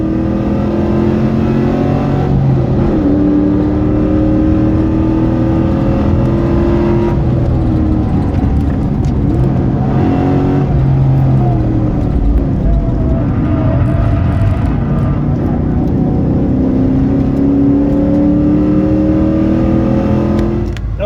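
A later-model car accelerates around the circuit during an Australian track day at Wakefield Park, engine droning loud and steady for the full stretch with rising and falling pitch as it pulls through gears and corners.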